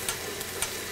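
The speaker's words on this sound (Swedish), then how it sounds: "Under tiden ska jag ta och steka en riktigt fin entrecote i smör." An entrecote steak frying in butter in a pan, a steady close sizzle with a few small pops, alone with no talk.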